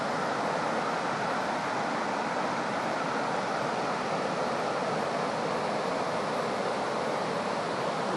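Water rushes steadily in a dense, continuous roar, close and loud, with no pauses or other sounds.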